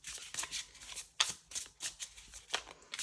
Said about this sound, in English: Just trying to shuffle maybe